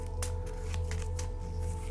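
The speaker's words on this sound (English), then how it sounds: "I place it on the top of my deck and shuffle" Cards from a sleeved Dusk Runners deck being shuffled on a tabletop, with a few quick riffling bursts over a steady low background hum, fairly close and moderately quiet.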